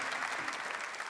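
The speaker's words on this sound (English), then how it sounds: "can y'all give them a huge round of applause again?" Dense, steady clapping from a university event audience applauding a panel, a continuous wash of many hands at moderate volume.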